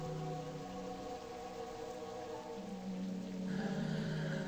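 Steady rain patters in a video game scene, a constant wash of noise layered with sustained low tonal drones that shift midway through.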